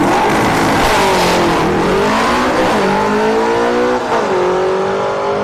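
Drag racing cars roar off the line at a motorsports park strip, loud engines revving hard with rising and dipping pitch sweeps as they accelerate away.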